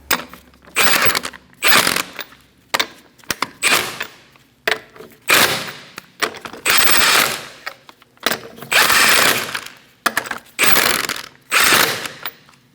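Bursts of a ratcheting tool tightening wheel lug nuts on a Chevrolet Sonic, about a dozen short loud clicking runs separated by pauses, close and with no talk.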